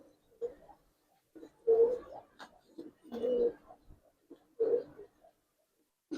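A female Giribaz pigeon coos close by in a series of soft, throaty, rhythmic bursts with short gaps between them, and a voice is faintly mixed in.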